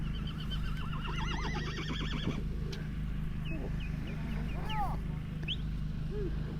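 A horse whinnies loudly in a series of rising and falling calls, then gives shorter, fainter neighs, outdoors in Xinjiang near a Kazakh rider, over a constant low rumble of wind or engine.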